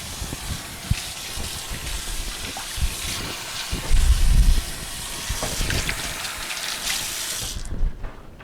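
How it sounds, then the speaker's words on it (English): Tap water gushes steadily into a kitchen sink during washing up after frying pork wontons, a close, continuous rushing stream that swells briefly midway and stops abruptly near the end. "Now I'm going to go to the sink for a quick wash."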